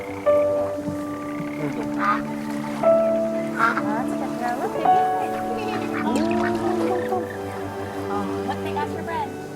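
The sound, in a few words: ducks being fed bread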